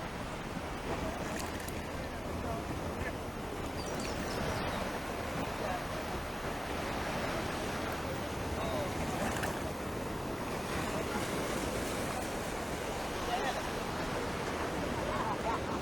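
Ocean waves wash ashore at Miami Beach in Barbados at daybreak, a constant broad surf roar with wind buffeting the microphone, steady and full throughout.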